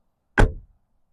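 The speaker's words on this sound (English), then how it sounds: "Here's another thing, the sound it makes when you close the door." A single solid, heavy thump as the door of a 2011 Alfa Romeo Giulietta Veloce JTDm-2 is closed nearby, short and deep with a quick decay into silence.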